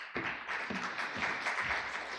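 Audience at a Korean VR/AR standards council launch event applauding to welcome a keynote speaker, a short burst of scattered, moderately quiet clapping.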